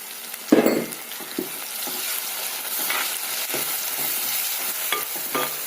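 Shallots, curry leaves and green chillies browning in a hot pan give a steady close sizzle, with a few stirring scrapes and clinks; no talk.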